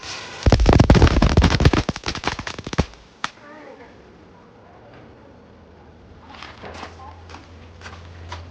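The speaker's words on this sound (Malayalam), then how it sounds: "നമ്മൾ പടക്കം പൊട്ടിക്കാൻ പോകുന്നു" Christmas firecrackers burst in a rapid, loud crackling volley close by for a couple of seconds, then a single pop follows and faint scattered crackles sound far off as things quiet down.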